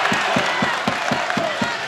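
Basketball game crowd noise in a gym, a loud steady roar of cheering and clapping with rhythmic thumps, likely feet stamping or drumming, beating about four times a second throughout.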